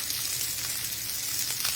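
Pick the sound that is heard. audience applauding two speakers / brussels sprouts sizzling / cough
brussels sprouts sizzling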